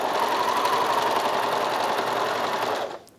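A Bernina 1100DA serger overlocker run with its foot control, giving a steady rapid mechanical whirring hum at constant speed for about three seconds before stopping abruptly.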